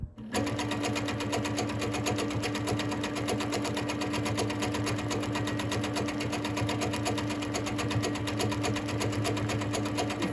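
Sewing machine doing free motion quilting of a star design, a steady, fast mechanical needle chatter with an even rhythmic hum that runs continuously and close, with no pauses.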